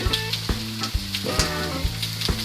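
Pad Thai rice noodles stir-fried in a pan with tamarind sauce, a steady close sizzle broken by repeated scraping and tossing clatters of the spatula against the pan, with no voices.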